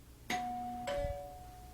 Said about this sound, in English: That's the doorbell now.